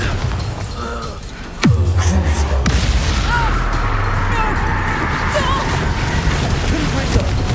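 A Confringo fire-blast spell explodes in Hogwarts Legacy combat, one sudden loud boom with a falling rumble that drops into sustained low noise, while voices shout over the fight.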